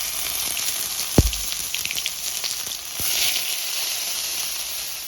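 Broccoli frying in a pan for a Bengali-style vegetarian broccoli curry, a steady close sizzle and hiss with a brief louder clatter near the start and small crackles throughout.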